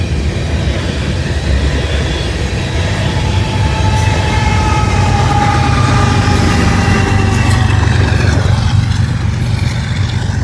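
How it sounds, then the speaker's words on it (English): Short freight train of new gondolas with two DPU locomotives on the rear, rolling past close by with a loud, steady rumble and clatter of wheels and railcars throughout. "Didn't think it had to have two DPUs on the back of that short of a train, but they sure did."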